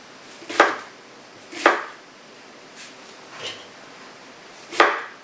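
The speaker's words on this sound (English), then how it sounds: "And then we'll just do a rough little chop on these." A knife roughly chopping cored Honeycrisp apples on a board, with three loud, sharp cuts and two softer ones spaced irregularly, close and alone.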